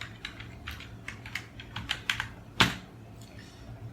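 Quick, irregular keystrokes tap on a computer keyboard while a password is entered, ending in one louder sharp keypress, near and alone with no talking.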